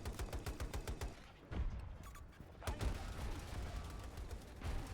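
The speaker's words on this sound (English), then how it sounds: "They're shooting at us." Bursts of enemy gunfire in the shooter game Battlefield 2042: rapid, loud volleys of shots crackle in quick succession, pause briefly, then resume with heavier, sustained firing.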